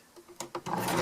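A sewing machine stitches a DIY pack cover, giving a short burst of a few quick mechanical stitch pulses that run into a brief steady whir, close up and fairly quiet.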